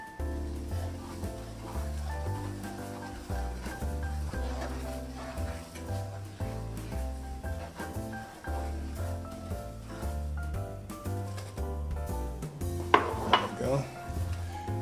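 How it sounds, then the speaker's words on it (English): A flour roux for gumbo stirred in a pot: steady scraping and clinking of the utensil against the pot, heard close. Background music plays throughout, and a sharp clatter comes near the end. "we're going to stir this until it gets about the color of milk chocolate"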